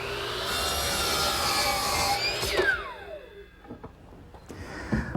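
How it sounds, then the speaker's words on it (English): Wood trimmed to length in a miter box by hand saw, a rasping cut that ends in a sliding squeal, then a few light knocks and clatters of handling. "Now I'll just trim it to length at the miter box"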